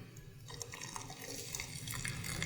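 Thick, molasses-like secret sauce with a Jack Daniels character is poured onto a griddle for a patty melt, giving faint wet dribbling and sizzle-like splatter that builds slightly over a few seconds.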